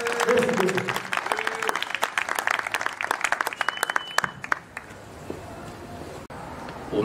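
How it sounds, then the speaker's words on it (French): Audience applause at a political party's New Year greetings ceremony, dense clapping for about four seconds that thins out and fades to quiet room tone, with voices mixed in. "Applaudissez une fois."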